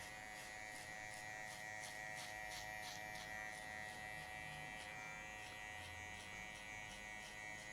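Electric hair clipper fitted with a number 2 guard running through hair during a mid fade haircut, a steady close buzzing drone with faint rhythmic pulses as it passes over the head, no voices.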